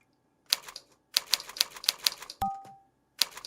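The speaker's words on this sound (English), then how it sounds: "It gets so annoying typing like that." Short clacky bursts sound on a keyboard during touch-typing practice. Quick keystroke clusters are separated by pauses, and a brief tonal beep comes midway.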